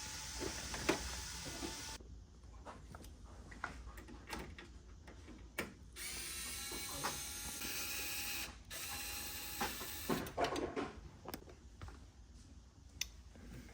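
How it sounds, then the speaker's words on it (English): Mechanical clicks, ratcheting and scraping as the IBT belt unit is slid out of a Xerox C60/C70 PrimeLink C9065/70 printer, a string of close, sharp clacks and rattles over quiet room tone. "Once you take that off, we'll go ahead and start to pull this IBT."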